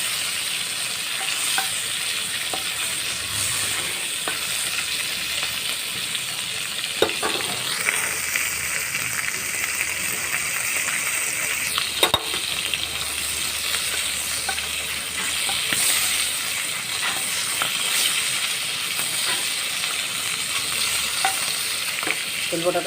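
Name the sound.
fish oil patka frying and being stirred in oil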